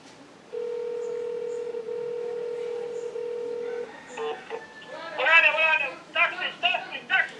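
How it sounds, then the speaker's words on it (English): A landline telephone gives a steady dial tone for several seconds, then a short burst of dialing tones and clicks as the call ends, followed by a voice speaking. "Peter, why you hang up the phone?"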